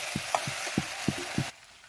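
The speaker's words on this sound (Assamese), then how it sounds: "ভাজি আছোঁ এতিয়া" Local chicken curry with onions frying in a pan over a wood fire, a close sizzle with several sharp stirring scrapes in rhythm before it drops away to near quiet.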